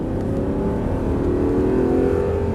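A car engine on a race circuit holds a steady, loud drone with rising harmonics as it accelerates, continuous throughout with no voices.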